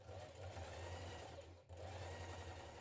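Sewing machine top stitching the front legs of trousers close to the seam, a close, steady mechanical whir in two bursts separated by a brief pause, with no talking.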